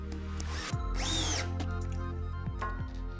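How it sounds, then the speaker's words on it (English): A handheld electric drill with a torque setting and square drive whirs in short bursts, driving self-drilling screws into a RightAngle CPU holder, close and clear with no talking. "I prefer using an electric drill with a torque setting with a square drive"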